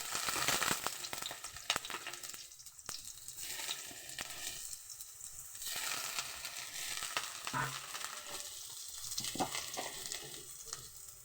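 Soaked, squeezed soya chunks fry in oil in a wok, a sizzling hiss that swells and fades in waves with scraping stirs and scattered pops, moderately quiet and close.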